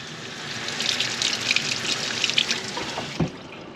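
Water from a tap runs and splashes steadily as a gold nugget is rinsed clean, close and moderately loud, ending with a small knock.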